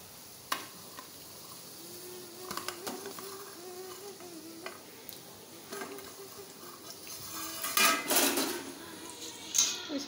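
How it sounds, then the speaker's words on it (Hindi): Mathri dropped into hot oil and fried over a medium flame, with a soft continuous sizzle, metal utensils clinking and stirring against the pan, and louder bursts of bubbling toward the end. "अब इसमें मैं मठरी डाल रही हूँ।"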